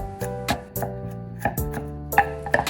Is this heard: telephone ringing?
no